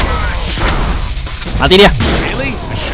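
Shotgun fire in the Deadpool video game, a booming blast with mechanical clatter amid continuous game noise, while someone talks over it.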